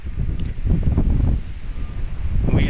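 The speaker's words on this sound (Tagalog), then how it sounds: "Lakas na rin ng hangin" Strong seasonal wind gusting outdoors at a fishing spot under darkening skies, a steady roaring rush with buffeting against the microphone, no voices.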